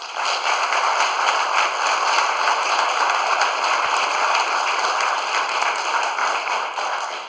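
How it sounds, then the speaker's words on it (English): Crowd at an Oklahoma earthquake town hall breaks into sustained applause, a thick crackling texture of many clapping hands holding at an even, fairly loud level for several seconds. "Those who believe no, please applaud."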